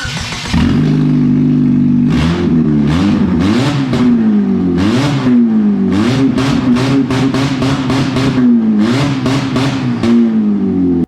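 A car engine with its mounts removed revs repeatedly, pitch rising and falling in quick bursts, loud and close with no talking.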